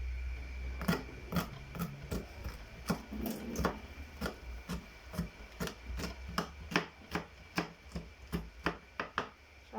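Okra being chopped on a cutting board for a Nigerian okro soup: a steady run of about twenty crisp knife knocks, close and clear, keeping an even rhythm with a light background hiss.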